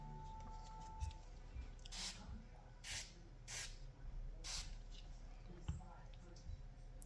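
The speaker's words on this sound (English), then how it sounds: "spray the barrel," Short bursts of lubricant spray onto the barrel of an S&W Bodyguard 2.0 pistol, four quick hissing squirts at close range over a low background hum.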